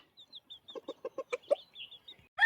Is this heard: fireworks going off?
no